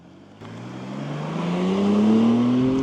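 A BMW M2 (G87) engine rises steadily in pitch as it accelerates, a smooth building drone that grows louder over about three seconds without clear crackles.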